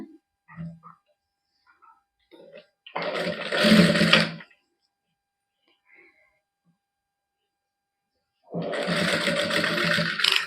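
A sewing machine stitches lace onto a suit neckline in two loud, close bursts of rapid whirring, separated by quiet gaps with faint handling noises.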